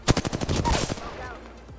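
A short burst of rapid gunfire in Apex Legends, fairly loud at first, then fading quickly into a quiet tail.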